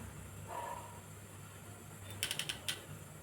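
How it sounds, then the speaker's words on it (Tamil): A gas stove being switched on for cooking: a faint hiss, then a quick series of sharp ignition clicks, close and quiet against a low background hum, no talking. "இப்போ கேஸ் ஆன் பண்ணிப்போம்."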